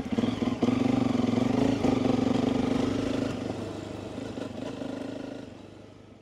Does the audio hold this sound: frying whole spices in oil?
no